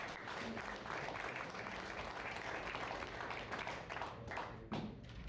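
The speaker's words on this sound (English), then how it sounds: "let's give Amanda a round of applause" An audience applauds for about five seconds after a talk, a dense, even patter of many hands clapping that fades slightly at the end.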